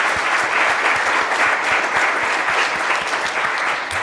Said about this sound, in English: Let's give a round of applause to all those leaders.